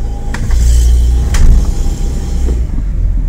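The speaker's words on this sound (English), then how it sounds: "this always makes my car judder" Low, heavy rumble of a Honda Fit/Jazz engine and CVT transmission juddering, heard from inside the car, with a shuddering, uneven vibration and a few brief clicks.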